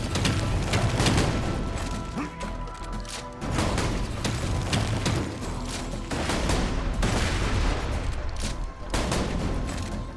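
Sustained, loud gunfire from Borderlands 2: dense bursts of shots and blasts running nearly the whole time, with only brief dips between volleys.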